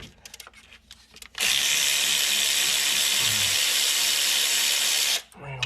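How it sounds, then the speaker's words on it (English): A cordless ratchet with a 3-inch extension and 10mm deep well socket runs in one long steady whir of about four seconds, loud and close, before stopping, while working on a 2014 Ford Explorer engine. "we got our cordless ratchet here, 3-inch extension, 10mm deep well socket"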